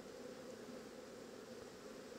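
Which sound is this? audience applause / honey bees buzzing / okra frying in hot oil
honey bees buzzing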